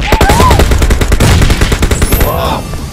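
Sustained automatic gunfire in the mobile battle royale PUBG Mobile, with loud, dense, rapid shots rattling close by for the whole stretch and faint voices underneath.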